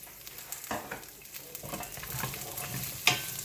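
Green beans, washed and cut in half, go into a pan with a little olive oil and fry with a low, steady sizzle, broken by a few clattering stirs and a sharper scrape near the end.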